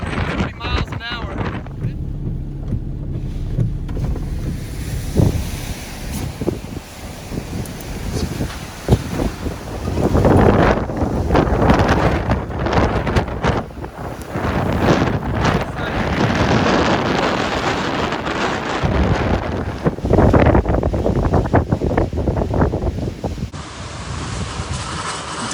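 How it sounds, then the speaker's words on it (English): Powerful hurricane-force gusts from Hurricane Ida roar across an outdoor spot in Thibodaux, Louisiana, on the outer eyewall, buffeting the microphone in loud, surging waves with a few muffled voices underneath. "Wind is really kicking up here on the outside of the outside eye wall right now."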